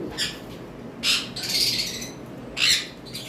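A tame conure parrot gives a few harsh, high squawks close by, spaced out over a few seconds against low background rumble.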